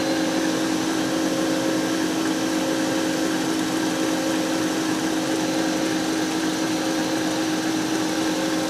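Egg whites whipped into meringue with an electric mixer, a continuous, close motor whine with a steady hum that does not vary for the whole stretch.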